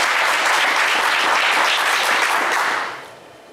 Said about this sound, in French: on vous applaudit très,